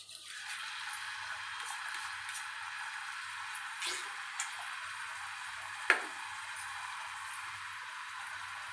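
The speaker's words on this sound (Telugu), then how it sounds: "ఆయిల్ పోసినా కదా, తర్వాత ఉల్లిగడ్డలు వేయాలి" Onions frying in hot oil, a soft, steady sizzle with a couple of small pops and ticks, quiet and close, with no talking.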